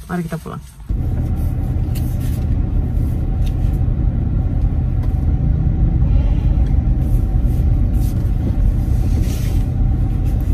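A car being driven home along a street: steady, loud low road and engine rumble from inside the cabin, running continuously after a brief start, with voices speaking over it.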